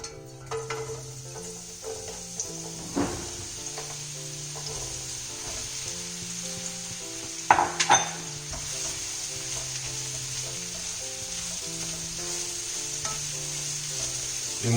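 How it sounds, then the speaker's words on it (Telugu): Ridge gourd sautés in about three tablespoons of hot oil with a steady background sizzle, broken by repeated clacks and scrapes of a spatula against the pan, including a louder clatter midway, and no speech. "డైరెక్ట్ మీరు బీరకాయ ఇందులో సాటే చేసుకోవచ్చు."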